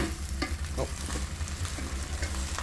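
American spare ribs frying in oil and being turned in the pan, a loud close sizzle with scraping stirs and soft knocks under a low hum.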